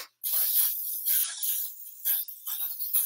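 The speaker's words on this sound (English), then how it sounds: "So I have a baking dish that I'm going to spray with coconut oil." Coconut oil cooking spray hisses from a can into a baking dish in a home kitchen, several short close bursts in quick succession separated by brief pauses.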